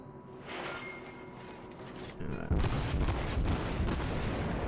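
Naval guns fire a salvo in World of Warships as a German cruiser engages, a booming burst of gunfire that swells midway into a loud, sustained roar of blasts and rumble.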